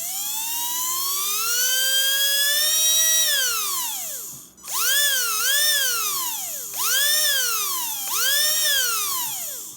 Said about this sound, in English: it's got a little bit of a kick, that motor